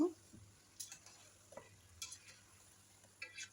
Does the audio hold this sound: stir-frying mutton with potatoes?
yes